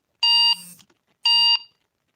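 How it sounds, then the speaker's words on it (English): Two loud electronic beeps about a second apart, each a bright, tonal pulse that stops abruptly, with silence between. "Okay, that's my alarm."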